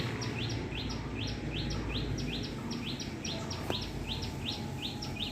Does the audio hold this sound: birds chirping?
yes